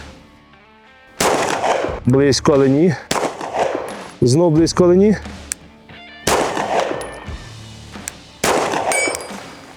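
Several sharp shots from a Sig Sauer P320 AXG Legion pistol with a 3.9-inch barrel, fired at a clay target, ring out one at a time at uneven intervals, loud and close, with someone speaking between them.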